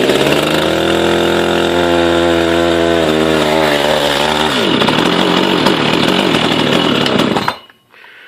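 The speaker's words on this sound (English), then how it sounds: "But that's how you start the saw." An Echo CS590 chainsaw with a 36-inch bar catches and revs loudly, its pitch dropping and settling into a rough drone before cutting off abruptly near the end as it runs out of fuel.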